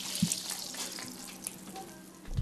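Sandy, odorous water runs from a household tap during the Makhanda water crisis, flowing back after nine days dry: a steady, close, hissing splash with small drips and clatters on top.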